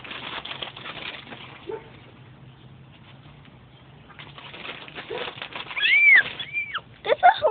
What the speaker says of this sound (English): That's a whole lot of seagulls, bud.